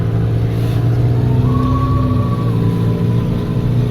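A Honda ATC 200e three-wheeler's engine drones steadily while climbing a steep road in second gear, a constant mid-pitched hum with a faint rising whine partway through.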